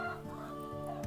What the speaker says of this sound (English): Unfortunately, one of our chickens turned out to be a rooster.